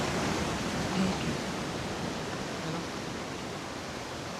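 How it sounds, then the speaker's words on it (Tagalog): Ocean waves at Dalugan Beach in Casiguran, Aurora, make a continuous broad roar of surf. The wash is loud at first and eases slightly toward the end, with no separate crashes standing out. "Taas ng mga alon, no? Grabe."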